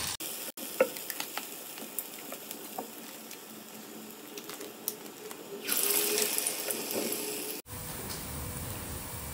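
Urad dal vadas frying in hot oil in a wide kadai, a steady close sizzle with scattered crackles that swells louder for a couple of seconds near the end, then cuts off abruptly.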